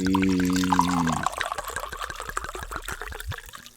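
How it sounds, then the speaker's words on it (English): Liquid pours steadily into a glass at close range, a trickling, gurgling stream that settles into irregular splashes and drips as it fills, with no talking over it. "Time for the pour."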